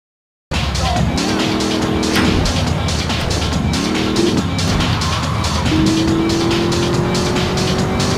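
A blue Banshee sports car in GTA 6 revving and accelerating through gear changes, a loud close engine drone under a constant layer of game sound, with a voice speaking over it.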